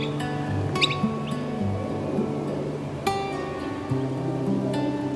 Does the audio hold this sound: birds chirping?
yes